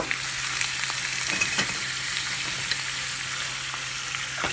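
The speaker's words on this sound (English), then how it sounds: "and then we'll go ahead and put our shrimp in." Shrimp sauté in sesame seed oil with a constant, bright sizzle close by, dotted with small crackles and pops and the occasional stir throughout.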